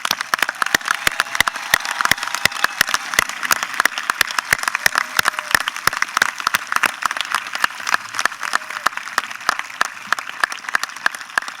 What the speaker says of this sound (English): I would like all the scholarship recipients to stand for a round of applause.